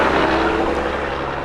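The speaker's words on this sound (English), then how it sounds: "Southwest Airlines arriving from Orlando" A Southwest Airlines Boeing 737-700 arriving from Orlando at Grand Cayman airport, heard as a loud, steady broadband jet roar that eases slightly over a short moment, with no talk.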